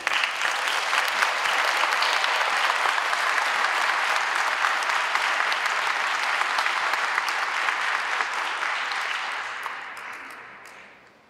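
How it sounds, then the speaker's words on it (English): A large crowd applauds veterans at an outdoor memorial dedication ceremony, a sustained, dense wash of clapping that holds steady for about eight seconds, then tapers and fades out near the end. "give all of our veterans a round of applause"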